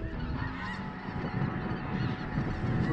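A large flock of snow geese honking in a constant overlapping chorus during a hunt, loud and close, with no voices.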